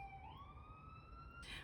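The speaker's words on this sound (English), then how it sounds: "Okay, the sirens are going." A police siren wails outside, its rising tone sweeping upward and holding, faint and distant against a low background rumble.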